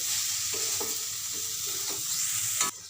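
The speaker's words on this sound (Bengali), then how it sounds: "আমি এটা আজ কম করে দিয়েই ভেজে নেবো কিছুক্ষণ মশলাটার সঙ্গে" Cauliflower fries with spices in a pan, giving a continuous close sizzle broken by a few scraping spatula strokes, with a sharper scrape near the end and no voices.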